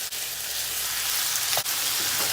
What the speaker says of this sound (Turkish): Yüksek ateşte sotelemeye devam edeceğiz.